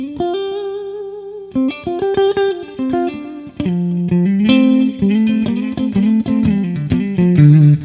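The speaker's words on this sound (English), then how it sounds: "Digital Delay by Boss. This is a longer kind of echoey delay" Boss Digital Delay guitar pedal set to a long, echoey delay: loud electric guitar notes and chords ring out and repeat in trailing echoes, the playing growing busier and more distorted toward the end, with no talking.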